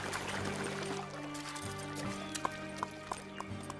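Hooves of a cartoon horse clip-clop in a short run of crisp, evenly spaced knocks over a bed of music and ambient sound, growing clearer toward the end.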